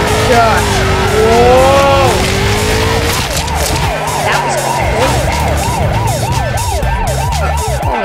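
A police car siren wails loudly and continuously in the Turbo Dismount video game, with repeated rising and falling sweeps over engine rumble and crash noise.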